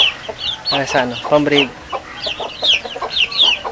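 Black Australorp chickens cluck and squawk in quick, close bursts, with loud repeated calls and high squeals, over a brief spoken word.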